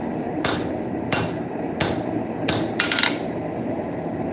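A hammer strikes a railroad spike being forged into a round shape, five sharp metallic blows spaced roughly evenly, the last two coming in quick succession, close and loud over a low steady background hum.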